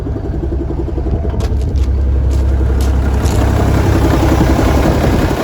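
A Versatile 895 tractor engine runs at a steady idle, heard from inside the cab as a loud, deep, continuous rumble with a faint rhythmic throb and a few brief rattles.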